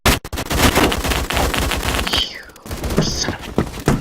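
Rapid bursts of automatic fire from a Sten or grease gun submachine gun in the Phantom Forces shooter game, loud and close, broken by a few short pauses between strings of shots.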